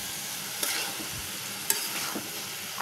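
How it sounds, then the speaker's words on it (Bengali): Spicy loitta dry fish curry with green chillies sizzles softly in a pan while a utensil stirs it, giving faint scraping strokes over a continuous low frying hiss. "এখন একটু নেড়ে চেড়ে দিচ্ছি।"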